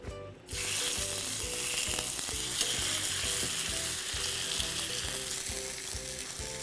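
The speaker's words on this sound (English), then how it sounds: "we're gonna get a nice sear on this" Steak sears loudly in a very hot, oiled pan for a margarita steak dish, giving a continuous, close sizzle and crackle with no talking.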